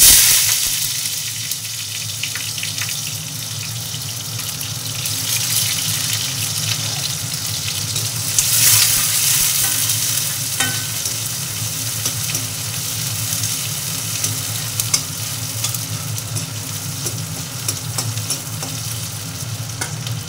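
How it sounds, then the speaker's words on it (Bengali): Onions frying in oil in a wok-style pan, a steady close sizzle with stirring scrapes running continuously throughout, no voices. "কড়াটার মধ্যে আমি পেঁয়াজ সম্বারা দিয়ে দিচ্ছি"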